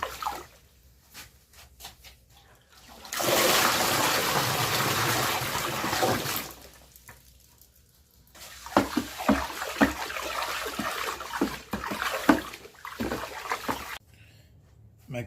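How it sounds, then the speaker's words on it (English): A water mixture of fish hydrolysate and molasses is dumped in, a loud rushing pour lasting a few seconds, followed by sloshing, splashing and trickling. "I put all those together in some water, and I'll dump that in now."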